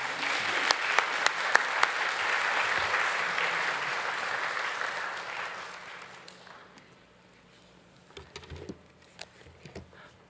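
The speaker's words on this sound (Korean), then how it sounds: "우리 목사님 나오실 때 큰 박수로 한번 환영 한번 하겠습니다" A church congregation claps to welcome the pastor at a Korean service, loud sustained applause that tapers off after about six seconds, leaving a few scattered claps near the end.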